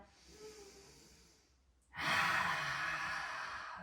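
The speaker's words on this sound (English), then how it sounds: "exhale like those breaths of fire" During a yin yoga session, one strong, forceful exhale in the style of dragon's breath of fire rushes out close and loud after a quiet, softer breath.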